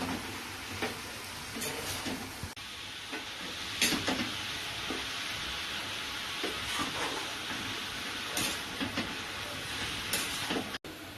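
Red amaranth greens fry with shrimp in a pan, a soft, steady sizzle broken by irregular stirring scrapes and clatter, fairly quiet and close with no speech.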